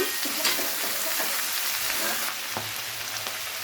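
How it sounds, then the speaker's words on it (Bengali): Mixed winter vegetables fry in a pan for a Bengali prawn curry, giving a steady close sizzle with a few soft scraping stirs and no talking. "তো সমস্ত সবজি একটু ভালো করে ভেজে নিচ্ছি"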